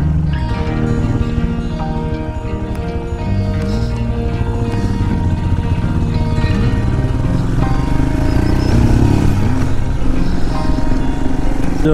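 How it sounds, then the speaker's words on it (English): Motorcycle ride through countryside villages, a loud continuous engine drone with steady low rumble and wind, heard close from the rider's position without talk. "a photographic motorcycle ride today"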